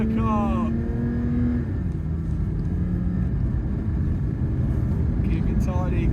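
A naturally aspirated Porsche 911 GT3 driving on a snowy Lapland road, its engine droning loud and steady from inside the cabin, pitch rising and falling as the revs swing, with a voice speaking briefly over it.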